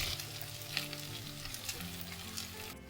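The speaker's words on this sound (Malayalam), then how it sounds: "ഇനി അതിലേക്ക് നമ്മൾ നേരത്തെ പൊടിച്ചു വെച്ച ഉരുളക്കിഴങ്ങ് ചേർത്ത് കൊടുക്കാം" Mashed potato is stirred into a sautéing vegetable mixture in a pan for chicken bonda, giving a continuous close sizzle with soft scraping and stirring strokes throughout.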